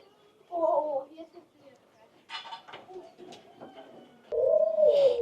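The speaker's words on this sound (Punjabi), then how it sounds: "ਇਹ ਆਪਣੀਆਂ ਘੁੱਗੀਆਂ ਆ ਗਈਆਂ ਨੇ" Doves cooing at a zoo in soft, low repeated bursts, with other faint bird calls and movement in between and a louder, closer coo at the end.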